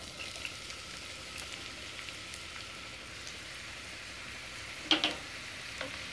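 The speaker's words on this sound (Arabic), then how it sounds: "الزيت فوق سخن، هنزل عليه بالبصل" Onions drop into hot oil in a pan and give off a faint, steady sizzle, with a brief clatter midway through.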